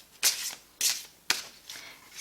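Tarot cards are shuffled in three crisp riffling bursts about half a second apart, followed by a softer fourth, close and clear with no talking.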